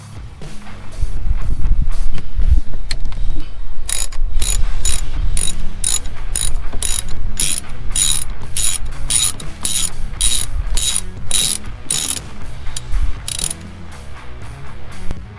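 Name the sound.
ratchet with Torx T30 bit removing steering wheel airbag screws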